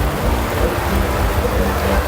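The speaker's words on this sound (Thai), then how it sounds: "เป็นสภาพฝนที่หนักทีเดียวนะครับ" Heavy rain pours steadily in a storm on a boat in southern Thailand, a dense, loud roar with low rumbling underneath and no talk.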